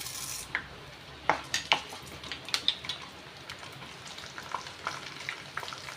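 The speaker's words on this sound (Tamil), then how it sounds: "எண்ணெய் நல்லா காஞ்சோடனே கடுகு ஆட் பண்ணிக்கோங்க உளுந்து ஆட் பண்ணிக்கலாம்" Mustard seeds and urad dal fry in hot sesame oil for a bitter gourd curry: a low, steady sizzle carries scattered sharp crackles and pops, with a few light clinks of a utensil against the pan.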